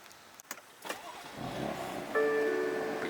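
A high-mileage BMW M4 stirs with a few soft clicks and rustles, then a low engine hum rises and settles into a steady idle with a thin whine on top, fairly quiet and close.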